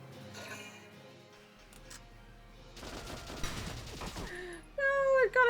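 Gunfire bursts in the tactical video game Valkyria Chronicles, a dense crackling volley mixed with game sounds and music, with a player's voice talking nearby.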